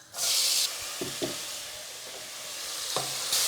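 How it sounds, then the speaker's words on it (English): Cumin seeds and onions sizzle steadily in a hot pan, with a burst of loud hiss at the start, occasional stirring clinks, and the hiss swelling again at the end. "Let it sizzle, add the onions, cook for 7 to 8 minutes."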